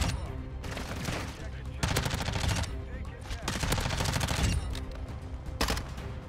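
Dense, rapid automatic gunfire from a Call of Duty match, loud bursts of shots rattling almost without pause over a busy background of game effects.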